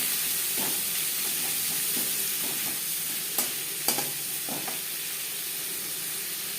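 Three finely chopped onions frying in a pan for a potato chicken curry give a steady, close sizzle with a few scattered utensil clinks and stirring knocks near the end.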